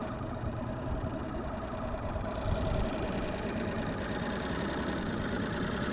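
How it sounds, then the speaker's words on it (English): An outboard boat motor on the Wisconsin River runs at a steady idle, a continuous low engine rumble with a brief rise partway through, heard alone without talk. "Motor started up good."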